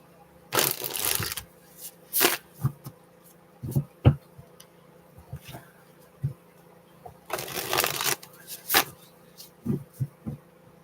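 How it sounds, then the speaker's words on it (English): Close, crackling bursts of an oracle deck being shuffled and riffled, with scattered taps and shorter flicks between longer bursts. "I just like to shuffle sometimes without even really drawing a card"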